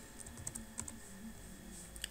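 Light, quick keystrokes on a computer keyboard while PHP variable code is typed, an uneven patter of faint clicks with brief pauses, close and quiet under a low steady hum.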